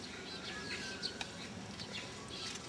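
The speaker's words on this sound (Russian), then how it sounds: "Клёвые птички какие-то поют." Small birds chirping and twittering in a park near a zoo in Seoul, faint high calls scattered over steady background ambience, with no talk.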